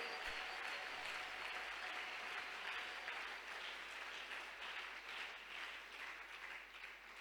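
A church congregation at a Sunday service applauding: dense, continuous clapping from many hands that fills the room at a steady level for several seconds.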